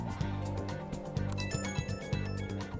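Phone ringtone in the video game Persona 5 Royal: a repeating electronic tone pattern, several short pulses in a steady rhythm, over a dense layer of game music.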